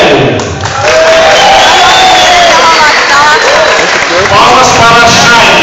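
Audience at a JediCon MG 2011 Star Wars cosplay contest clapping and cheering for a female contestant, loud sustained applause with whoops and shouts, and voices calling out over it.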